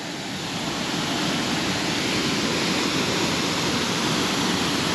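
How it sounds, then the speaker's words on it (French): Mountain waterfall on a hike near Artigues, a broad, steady rush of falling water, constant and fairly close, with no voices over it. "Voilà la cascade."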